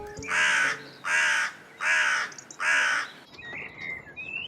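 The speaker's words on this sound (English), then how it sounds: "So what exactly do crows do in spring?" A crow gives four loud, evenly spaced caws close by, followed by faint birdsong in the background.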